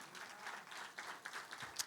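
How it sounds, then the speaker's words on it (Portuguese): Quiet, scattered clapping from a church congregation after a sermon on Jesus as the Word, a faint, uneven patter of many hands heard from a distance, fluctuating gently over its short span. "Você pode aplaudir a Jesus por essa palavra?"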